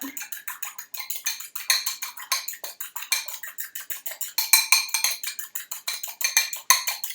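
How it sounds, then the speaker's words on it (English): Egg whites whisked briskly in a bowl for an omelette, a fast steady run of close, bright clinking strokes against the bowl with a few sharper taps. "I have my egg whites, and we'll scramble them up"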